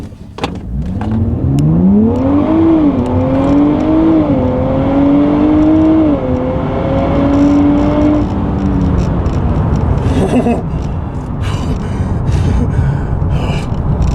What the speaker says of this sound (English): This is without the launch, so this is just simply accelerating from 0 to 60.